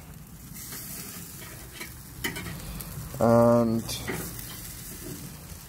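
Scotch bonnet burgers sizzle on a cheap barrel barbecue in a steady, close hiss, with a short harmonic tone and a brief clatter partway through and a single spoken word.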